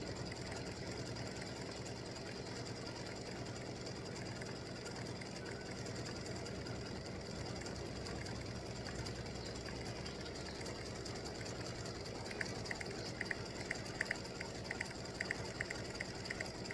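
An embroidery machine sews a satin stitch on Halloween tic-tac-toe game pieces, giving a steady, close mechanical whir that runs without pause, with quicker rapid ticking near the end.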